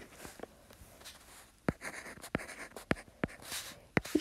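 Pen writing a math formula by hand on paper, soft scratchy strokes with sharp taps and pauses between marks, quiet and close.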